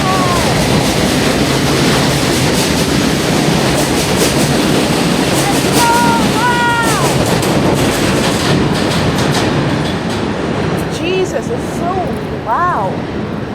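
A train rumbles loudly through the Coney Island train yard, heavy continuous rolling noise with rail squeals and metallic screeches rising above it, while people talk nearby.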